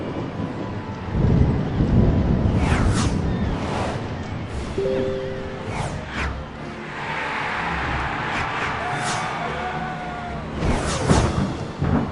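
A stormy, foul morning in the Harry Potter 3 video game, with a continuous wash of rain and low rumbling thunder. Several louder crashes break through, the last near the end, and short tonal game effects sit in the middle.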